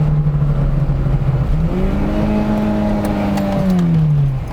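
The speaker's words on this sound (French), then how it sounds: "J'ai l'accélérateur qui est coincé." A Peugeot 205 GTI with a 1.9-litre engine revs hard and steadily with its accelerator stuck, the loud sustained engine note rising in pitch and holding high, close by, with no talk.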